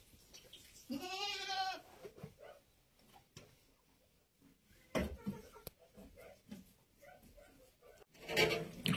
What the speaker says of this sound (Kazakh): Кеш туған лақтар.